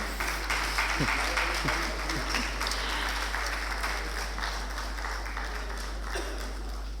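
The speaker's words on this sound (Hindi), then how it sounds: "आपकी तालियों का साउंड भी अगर हो जाए।" Audience applause at a book launch event, steady clapping from a crowd sustained throughout, with faint talk underneath.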